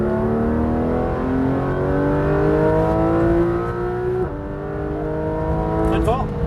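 A Porsche 991 GT3 RS at Le Mans accelerates on track, its engine note rising steadily through the gears with a brief dip at a shift, loud and close throughout.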